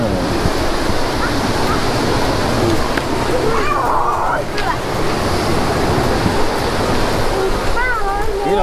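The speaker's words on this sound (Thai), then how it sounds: "อันนี้คือน้ำตกที่จุดเรามาเดินเมื่อกี้นะครับ" Waterfall at Khao Yai in Thailand, a loud, continuous rushing roar of falling water mixed with wind buffeting the microphone, with voices faintly audible beneath.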